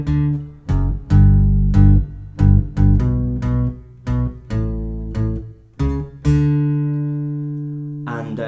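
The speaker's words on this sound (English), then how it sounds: "For the second loop, I'm using my Super Octave OC3 pedal by Boss to give it that low-end bass effect." An electric guitar loop run through a Boss OC3 Super Octave pedal, a series of plucked, strummed chords with a heavy added low octave, rhythmic attacks, and a long sustained final chord ringing out.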